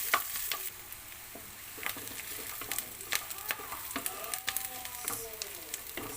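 Food sizzles and fries in a pan while a spoon stirs onions for paneer butter masala, giving a steady soft crackle with scraping strokes, close by and fairly quiet, with no talking.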